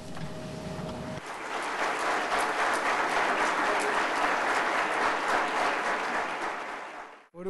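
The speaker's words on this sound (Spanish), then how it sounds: "Por un lado el agradecimiento del aplauso" Sustained audience applause fills the hall after a master lecture at a university, dense and steady for several seconds before cutting off abruptly.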